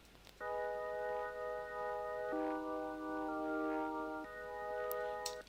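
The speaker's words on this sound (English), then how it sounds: "So this is what the organ sounds like." Hanon B70 organ VST playing sustained chords within a mix, steady held tones that shift chord twice, moderately loud and alone with no voices.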